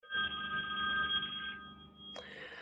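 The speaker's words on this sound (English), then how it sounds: "like the bell's ringing" A bell rings to close an online webinar, a sustained electronic telephone-style ring with steady tones for about a second and a half, then a brief higher chime, fairly quiet.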